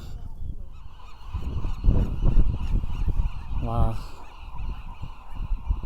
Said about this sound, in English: The noise of all the birds.